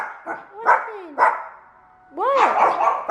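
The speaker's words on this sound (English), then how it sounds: "my dogs are playing" Dogs bark and yip while playing indoors, several sharp barks with whining squeals, close and loud, one burst after a brief lull.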